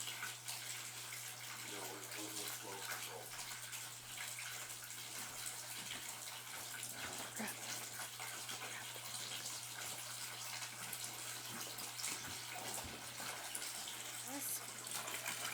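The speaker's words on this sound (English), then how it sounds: "The pond pump we got comes with a couple different speeds to it." A variable-speed pond pump pushes water out of an old, run-down fountain, a faint continuous gushing and splashing over a low electrical hum, with some voices in the background.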